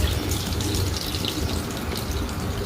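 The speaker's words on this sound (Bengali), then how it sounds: "এবার চোখ মুখটা ধুয়ে নিচ্ছি আমি।" Tap water runs steadily into a sink as a face is washed after brushing teeth, a close, continuous splashing rush with no pauses.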